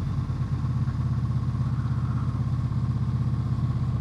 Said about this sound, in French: Le bruit que le moteur fait.